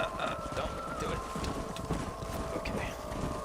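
A herd of horses gallops in the Western video game Red Dead Redemption, a steady rumble of hooves blended with wind noise.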